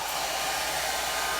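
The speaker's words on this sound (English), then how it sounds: "now this is the blow dryer's turn" A hair dryer on its low setting, used to style a wig, blows with a steady, airy whoosh, close and constant throughout.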